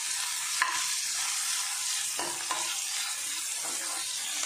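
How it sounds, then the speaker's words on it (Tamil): Onions deep frying and being sautéed in hot oil over a high burner for onion garlic chutney: a steady, loud sizzle fills the clip, with a few scraping stirs of the spatula breaking through, no voices. "ஆனியன் டீப் ஃப்ரை ஆகிற வரைக்கும் பர்னர் நல்லா ஃபாஸ்ட்டாக வச்சு நல்லா வதக்கிடணும்"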